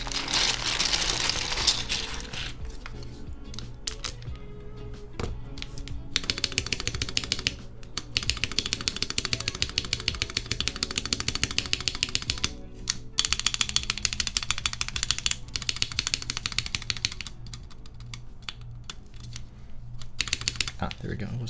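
Keycaps are pressed onto a mechanical keyboard, a dense run of close plasticky clicks and snaps that comes in bursts with brief pauses between, and a voice speaks now and then.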